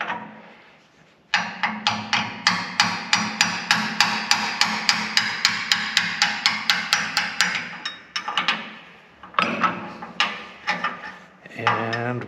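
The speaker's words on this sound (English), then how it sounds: "Get my hammer." Hammer blows against the cutterhead of a Powermatic 60A jointer, a steady run of loud, ringing metallic strikes about twice a second, then a short pause and more hits.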